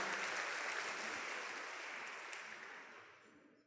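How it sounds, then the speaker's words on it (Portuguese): A church congregation applauds, a steady wash of clapping that gradually fades over a few seconds, heard at a distance. "Se você crê nisso, dê mais um aplauso a Deus"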